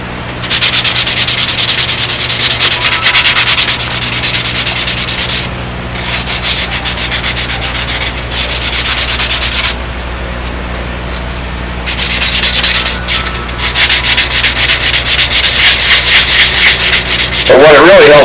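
Sandpaper rubbing back and forth over the plywood hinge area of a Windy Sidewinder model plane, loud rhythmic scratchy strokes in bursts with brief pauses, and a voice heard under it.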